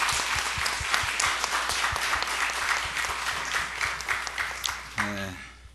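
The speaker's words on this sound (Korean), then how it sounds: "사랑과 격려의 박수 한번 부탁합니다" Church congregation applauds a visiting preacher after his sermon, a crisp round of clapping from a moderate crowd that thins toward the end, where a short tonal sound cuts in.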